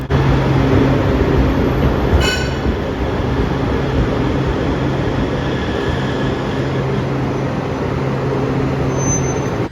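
An MBTA Green Line Type 9 light rail train in Boston rumbles steadily through a station, with a constant low hum of motors and wheels, a brief bright squeal or chime near the start and a high electrical whine throughout.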